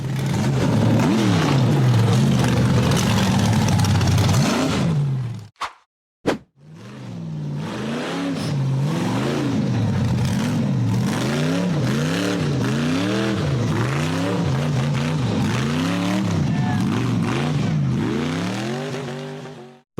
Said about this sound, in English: The cream-colored buggy was trying to climb a steep, rocky slope in the forest